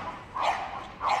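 A Staffordshire Bull Terrier at a Crufts display gives two short, fairly faint vocal barks or yips, close by, with a brief pause between them.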